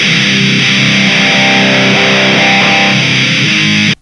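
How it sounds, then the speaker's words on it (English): A loud, sustained distorted electric guitar playing chords with a pronounced, forward midrange, ringing steadily before cutting off abruptly. "If we wanted to boost the mid range in this tone, listen to how much clearer it becomes."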